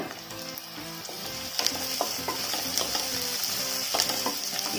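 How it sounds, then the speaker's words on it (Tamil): Small onions sautéing in a pan for spicy crab gravy give a steady sizzle. Regular scraping stir strokes run over it, close and moderately loud, with no one talking. "வெங்காயத்தை நல்லா வதக்கிக்கோங்க."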